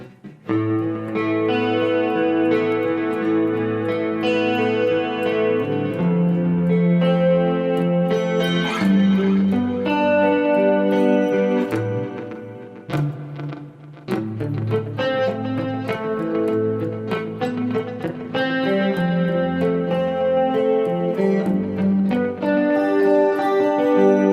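A clean electric guitar tone from a Fractal Audio Axe-FX II preset, with the amp and cab blocks switched off and a compressor and parametric EQ shaping it, plays sustained chords and melodic lines continuously with a short pause near the middle.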